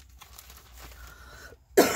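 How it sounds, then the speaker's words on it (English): A single sharp, loud cough bursts out at the very end after a stretch of quiet, faint room noise. "Still having problems with this cough"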